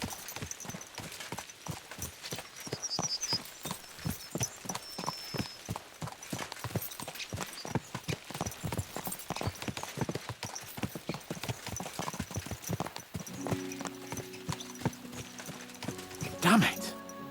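Horses gallop steadily in Kingdom Come: Deliverance II, with a rapid, rhythmic drumming of hooves that continues throughout, and a brief whinny rises near the end.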